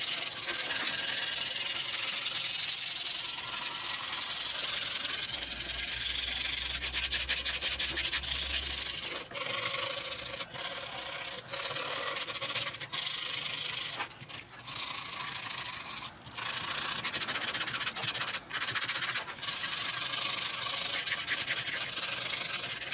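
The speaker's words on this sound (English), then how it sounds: "We're gonna use this regular old sanding pad" A handheld 80-grit sanding pad rubs back and forth along the sides of a wooden guitar kit body, a continuous close scratchy rasp broken by brief pauses and no talk.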